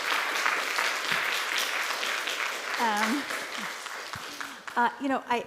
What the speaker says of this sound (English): I'd like to do a round of applause again for these four extraordinary presenters